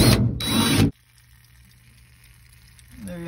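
A power drill bores drain holes in the floor pan of a 1969 Dodge Super Bee, a loud close whir that stops abruptly after about a second, followed by a low hum and a faint tail.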